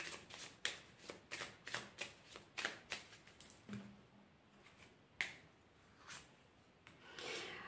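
Tarot cards being shuffled and laid out, heard as soft, faint riffling and flicking strokes in an irregular series, with a few sharper taps and a brief rubbing swell near the end, no talk.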